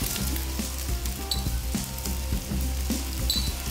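Red chili powder sizzling with ginger garlic paste and chopped green chili in a hot pan, a dense steady crackle close by with a few light taps, no one talking.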